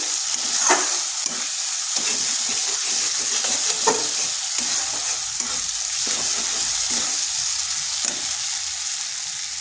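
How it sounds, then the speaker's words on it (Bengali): Shredded cabbage frying in an oiled pan for a vegetarian Bengali dish, a continuous hiss of sizzling with a few spatula scrapes and taps as it is stirred, close and steady. "এভাবে একটু আটটু নেড়ে নিচ্ছি"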